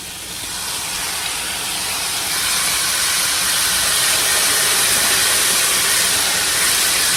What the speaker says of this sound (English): Now we're going to add our meat in.